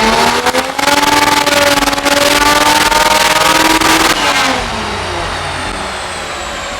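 A Toyota Supra with a 2JZ-GE engine on high boost, tuned with an ECUMaster unit, revs hard in a loud, sustained pull with brief wheel spin, then the engine note drops and fades as it backs off.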